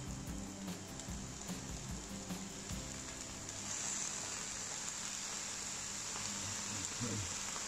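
Instant noodles with sugar and seasoning sauce being stir-fried and tossed in a pan give a steady, fairly quiet sizzle that continues throughout, with occasional scraping and clinks and no talk.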